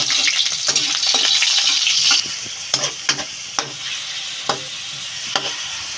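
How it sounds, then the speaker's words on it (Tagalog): Garlic and onion sauté in a pan for caldereta: a bright, loud sizzle at first that settles into a softer hiss, with repeated spatula scrapes and taps against the pan, close by and without voices. "sigigisa natin ng bawang at sibuyas"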